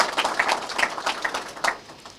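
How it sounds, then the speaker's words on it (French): An audience applauds at a public housing inauguration ceremony, a modest patter of scattered claps with a few sharper individual hits over a steady wash, fairly close and moderate in level, with no talk. "Il faut les applaudir, mesdames et messieurs."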